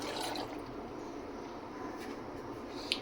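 Water poured into a glass of peach juice, a steady liquid splash and fill running on for about three seconds, close by and moderately loud with no talking.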